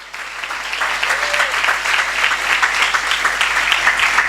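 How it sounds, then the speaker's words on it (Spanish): A church audience applauding strongly, a steady dense wash of clapping throughout the few seconds, loud and close with no break. "Dale un aplauso fuerte."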